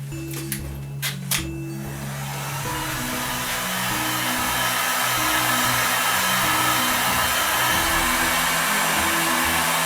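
A heat gun heating PVC pipe until it softens gives a loud, steady blowing roar with a constant whine, close and continuous after a few brief clicks at the start.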